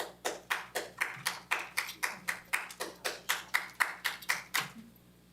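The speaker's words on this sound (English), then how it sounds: "Patricia, if you keep clapping loudly again like that, you're going to be disruptive" One audience member at a city council meeting claps loudly and steadily, about twenty sharp, evenly spaced claps close by in a quiet room, stopping abruptly.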